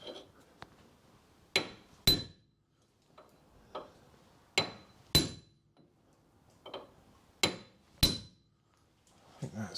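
Hammer striking a drift to loosen the lower suspension arm on a 2010 Mazda 2 1.5 petrol, heard as sharp metallic taps that mostly come in pairs with pauses between them, close and ringing, with no talk.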